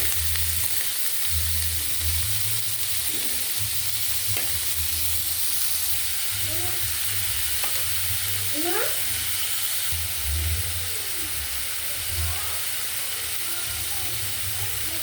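Green chillies fry lightly in a pan with a continuous sizzle, joined by occasional ticking and scraping from stirring, plus a low steady hum in the background.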